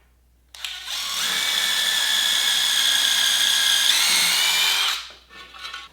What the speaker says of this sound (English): We're going to pre-drill the holes in the aluminum so I don't have to try and do that after I get the plexiglass mounted.